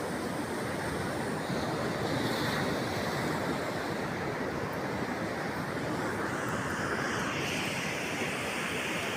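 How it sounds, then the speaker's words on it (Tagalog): Large ocean waves crash onto the shore at Baler in a constant, loud roar of surf, with wind buffeting the microphone throughout and no voices. "Sayang nga lang at malalaki ang alon."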